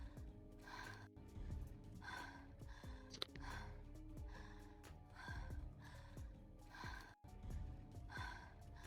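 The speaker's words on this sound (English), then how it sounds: "Sounds like I'm hearing breathing." Rhythmic breathing over a Discord voice call, repeated snort-like inhale and exhale cycles at a steady pace, close and noisy, with a low hum underneath.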